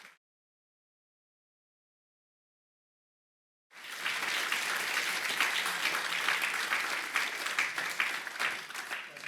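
An audience at a keynote talk on the developing brain breaks into sudden, steady applause that fills the room and carries on loudly after a few seconds of silence.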